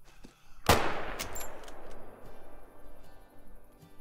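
A single loud Mosin Nagant rifle shot fired at a cape buffalo in the hunting game Call of the Wild, with a sharp crack followed by a long rolling echo that fades into quiet ambience.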